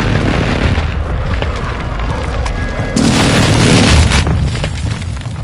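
Warzone 2 airstrike explosions roll in as loud, deep booming rumbles, sustained and swelling heavier around the three-second mark, with no talking.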